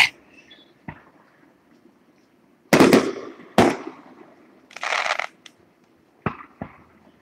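Fireworks bursting at the Dickson City Days celebration, heard as scattered pops and crackles at varying distances, some sharp and close, others softer, with a crackling fizz in between.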